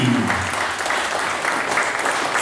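A gathering opening the motorcycle season applauds the elder of a motorcycle group in a short, dense burst of clapping, with a voice briefly audible at the start.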